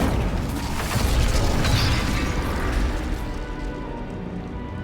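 Incendio fire spell in Hogwarts Legacy, a heavy rumbling blast that swells loudly in the first seconds and then slowly fades into a low roar.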